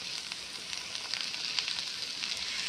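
Okra and onion sizzling in a pan on a small outdoor gas burner, a steady soft hiss with faint crackles and stirring, alone and fairly quiet.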